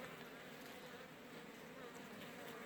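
Honey bees buzz around an open hive in a four-compartment colony support box, a faint, steady, dense hum with no break across the short stretch.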